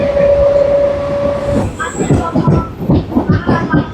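A Guntur–Repalle MEMU electric multiple unit train runs along the line, a steady rumble and rattle of carriages rising into rhythmic clattering, with a long tonal hum early on, close and continuous.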